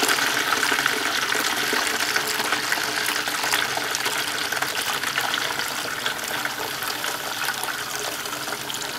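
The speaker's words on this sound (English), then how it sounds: "we're just going to go ahead and pour this through our funnel, right into our jug." Dissolved malt extract water poured through a funnel into a jug for a beer yeast starter, a steady continuous splashing gush of liquid lasting throughout, close and fairly loud with no talking.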